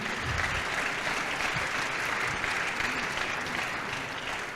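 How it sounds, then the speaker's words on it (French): Dense, sustained audience applause fills a sports awards ceremony hall, a steady loud wash of many hands clapping without pause and no voices on top. "vos applaudissements pour Johan."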